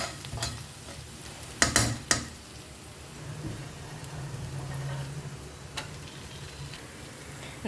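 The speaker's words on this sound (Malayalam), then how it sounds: "ഈ ഉള്ളിയും കറിവേപ്പിലും നന്നായിട്ടൊന്ന് പാകത്തിന് വഴറ്റി വന്നിട്ടുണ്ട്." Sliced onion and curry leaves sauté in a pan, a close sizzle broken by sharp clicks and scrapes of stirring, a few louder knocks near the start and a softer steady fry after, with no talking.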